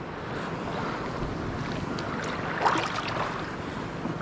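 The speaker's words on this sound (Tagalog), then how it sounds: "Bilang laki na ng mga alon." Sea waves rising around a small fishing boat used for tuna hunting, with a steady wash of water and wind noise, a brief louder splash partway through, moderately faint and without talk.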